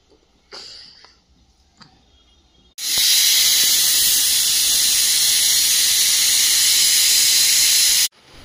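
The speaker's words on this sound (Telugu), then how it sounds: "ఇది ఇట్లా మసులుతుంది." Pot on a home kitchen stove, where a loud, steady hissing and steaming rises suddenly and holds for about five seconds before cutting off, after a few quiet clinks and stirs.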